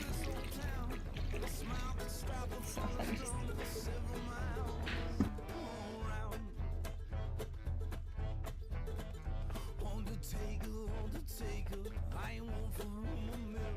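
Water pours steadily into a bowl of flour, yeast and salt for bagel dough in a continuous splashing stream, close by, with clattering and light handling noises mixed in.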